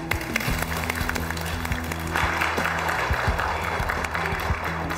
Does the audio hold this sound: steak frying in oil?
no